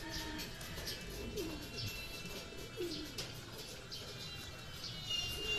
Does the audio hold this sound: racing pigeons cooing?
yes